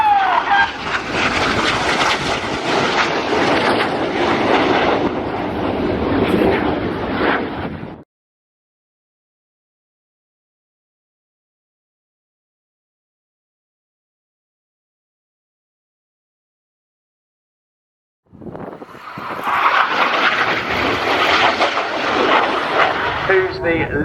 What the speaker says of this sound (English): They're turning the aircraft back towards us